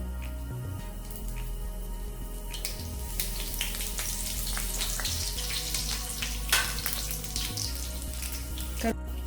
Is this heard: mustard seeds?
yes